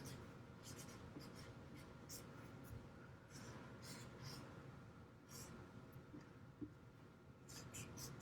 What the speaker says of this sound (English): And write library on it.